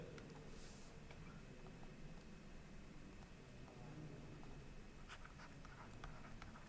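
Handwriting during a maths lesson, faint scratchy strokes under steady background hiss, very quiet and continuous with a few brief sharper taps.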